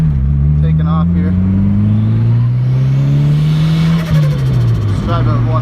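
A big-turbo LS-engined Mustang takes off under hard acceleration, its loud, close engine drone climbing steadily in pitch with a brief dip near a gear change, while a voice speaks over it.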